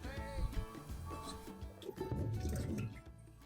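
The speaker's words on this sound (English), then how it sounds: "let's just get these in the sink. We'll get them rinsed off quickly" Cucumbers are being rinsed under running water in a kitchen sink while pickles are prepared, giving a steady close splashing and dripping with wet squishing as the vegetables are handled, and no talk over it.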